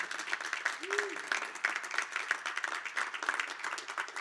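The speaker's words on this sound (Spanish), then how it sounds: "yo creo que tú le puedes dar un mejor aplauso a Jesús" A church congregation claps together in a sustained round of applause, moderately loud and steady, with a brief voice or tone rising faintly underneath early on.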